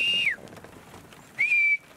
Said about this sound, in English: Those whistles mean it's okay.